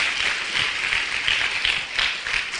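Congregation in a church gives a round of applause mid-sermon, a continuous, even roar of many clapping hands with a few louder swells, heard alone without speech.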